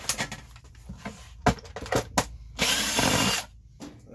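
A screwdriver is used to take apart a conference call phone, with close, sharp clicks and ratcheting taps and a brief whirring burst near the end.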